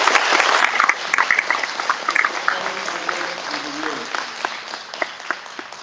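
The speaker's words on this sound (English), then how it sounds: "I want a big round of applause for Mr. Abdullah for being a building principal" A school honors-night audience applauds a building principal with dense, loud clapping that slowly thins out, while voices talk over it.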